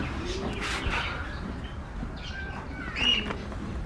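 Pigeons in a loft, a low soft cooing coming and going beside faint chirps and a brief flutter, close and moderately loud, with room noise behind.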